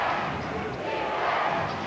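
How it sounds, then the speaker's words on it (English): A Rockland crowd chants defense in a high school basketball gym during a 1987 Eastern Maine boys final, a steady, massed roar of voices with no distinct breaks. "Rockland crowd behind us saying defense"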